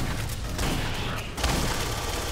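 Automatic weapons fire rattles in the Alien: Colonial Marines video game, dense rapid bursts of gunfire filling the mix, loud and near, with a brief drop before the firing resumes.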